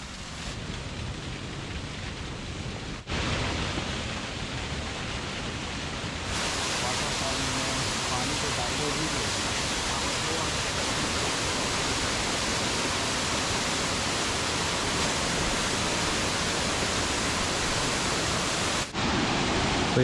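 A waterfall in hilly forest country pours with a dense, steady roar of rushing water, loud and close throughout.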